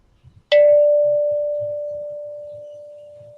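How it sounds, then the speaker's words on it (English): A meditation bell is struck once during a livestreamed gathering, giving a bright attack and then a long, pure, slowly fading ring over faint background murmur. "we will begin with 3 sounds of the bell"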